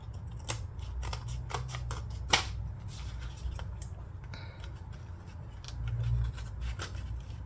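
Scissors trimming paper or card material during a Halloween shaker card craft, a series of crisp snipping cuts at irregular intervals, close and fairly quiet, with faint rustling of the material between cuts.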